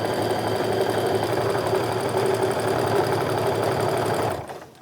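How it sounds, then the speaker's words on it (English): A sewing machine runs steadily for about four seconds, stitching the corner of a Rifle Paper Company Tourist Tote bag, with a loud continuous whir that stops abruptly near the end. "at least my corners are sewn by machine"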